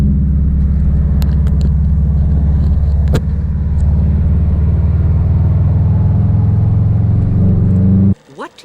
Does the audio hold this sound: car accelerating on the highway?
yes